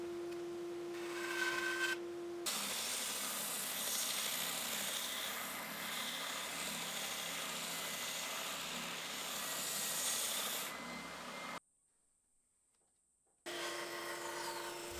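A saw cuts sacrificial timber off the top of a wooden bar stool leg, making a continuous rasping scrape that runs for several seconds before a sudden stop and brief silence, then starts again.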